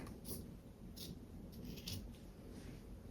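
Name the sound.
cutting off extra fabric with scissors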